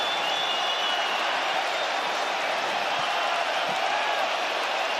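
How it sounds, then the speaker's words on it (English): A capacity arena crowd in Perth, Western Australia, gives a standing ovation after a UFC fight. A dense, continuous roar of applause and cheering holds steady throughout, with a commentator's voice over it. "A standing ovation from the capacity crowd in Perth, Western Australia."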